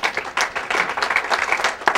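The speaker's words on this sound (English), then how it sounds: "so give yourselves a round of applause, please" Athletic club members give a round of applause, a dense burst of many hands clapping together, lively and moderately loud for the whole stretch.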